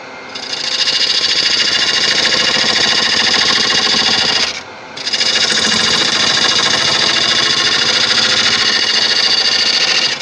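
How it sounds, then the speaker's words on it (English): A wood lathe spins a large river bowl while a tool cuts a deep mortise, producing a loud, continuous grinding roar that dips briefly near the middle before resuming at full strength. "I'm actually going to do quite a deep mortise"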